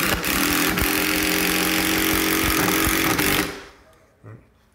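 A power drill whines steadily at close range for about three seconds driving self-tapping screws without pre-drilling, then cuts off and winds down, leaving a quiet tail with a small bump.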